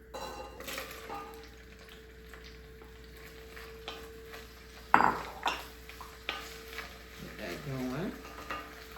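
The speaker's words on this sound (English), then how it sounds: "I'm gonna throw in my peppers" Peppers dropped into a hot pan before cooking pompano fish, a steady low sizzle broken by a sudden burst as they land, then stirring scrapes and clinks over continued frying.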